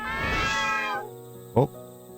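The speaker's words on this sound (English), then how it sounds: "A gathering of cats." A group of cats in the horror game The Forest of Drizzling Rain lets out a loud, drawn-out meow that stops abruptly, leaving quieter mews and one short sharp cry near the end.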